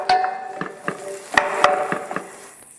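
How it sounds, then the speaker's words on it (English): Mixed roasting vegetables sizzle in a pan while a utensil stirs and scrapes them, giving about eight sharp clanks over a soft continuous frying hiss, with no voices. "Now we'll saute the mixed roasting vegetables."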